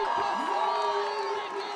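At the Planica ski jumping qualifications, a crowd full of children cheers and shouts in a continuous, lively roar with high voices rising above it.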